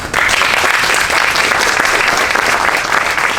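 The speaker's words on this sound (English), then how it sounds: "So please give them a round of applause as well." An audience at a community celebration in Paterson's Great Falls Historic District claps loudly and steadily, a dense close wash of applause throughout.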